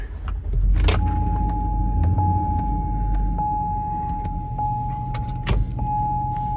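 A 2007 Hummer H2 SUV engine cranks with a sharp burst and settles into a steady, close low rumble, while a repeating warning chime sounds over it.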